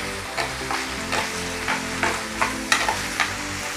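Chopped vegetables sautéing in a hot pan for restaurant-style chilli pork, a steady close sizzle broken by regular scraping stirs about every half second.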